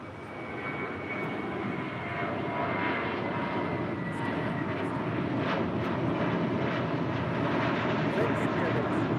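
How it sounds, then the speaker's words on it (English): A heavy Boeing 787 Dreamliner touches down at LAX, its steady broadband engine roar holding loud and continuous throughout, with faint radio talk underneath. "Heavy Dreamliner is touching down"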